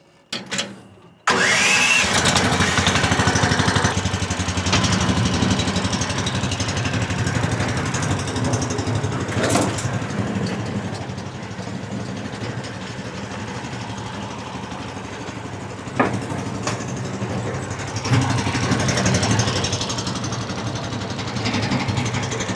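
A site dumper bought at auction cranks and catches, then its engine runs on steadily for about twenty seconds, loud and close, with a few knocks and clunks over the steady chugging.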